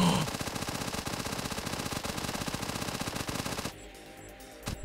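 A self-defense turret in the game One Step From Eden fires a rapid stream of shots, a dense rattling burst like a machine gun lasting several seconds before cutting off, with a brief spoken exclamation.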